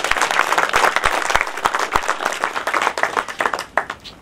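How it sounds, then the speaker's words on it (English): A festival audience applauds at the opening of a Czech film festival hosted by the Indo Appreciation Foundation at a Tagore Center. Many hands clap loudly and closely in a thick burst that thins and fades over about four seconds. "they deserve a big round of applause,"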